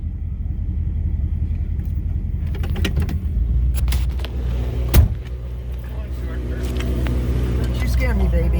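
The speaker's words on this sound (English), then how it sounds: "Mom's first driving the Mercury for a long time" A 1963 Mercury Monterey being driven: a steady low engine rumble, with a sharp thump midway that sounds like a door. People talk over the car.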